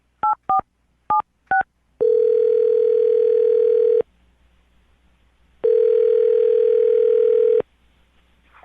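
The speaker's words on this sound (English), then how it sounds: "I'm going to dial the phone number right now and get him on the phone." A telephone handset dials out: four short, crisp dual-tone keypad beeps, then two long, steady ringback tones separated by silence. Sound is clean and close, with no voices.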